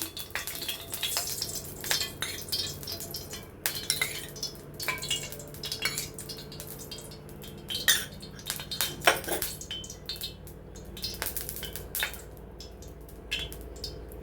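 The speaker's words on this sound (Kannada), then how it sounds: "ಒಂದು ಪಾತ್ರೆಗೆ ಸ್ವಲ್ಪ ಕೊಬ್ಬರಿ ಎಣ್ಣೆ ಹಾಕ್ತಾಯಿದ್ದೀನಿ." Busy kitchen clatter of a metal vessel and utensils as coconut oil is poured into a cooking pot, with light scraping, knocks and a wet trickle throughout, close by.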